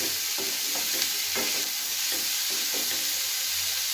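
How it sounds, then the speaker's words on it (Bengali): Chicken soup ingredients stirred with salt in a hot pan, a loud unbroken sizzle and hiss close up, with rhythmic spatula scrapes against the pan. "নুনটা দেওয়ার পরে ভালো করে এটা নাড়াচাড়া করে নিচ্ছি"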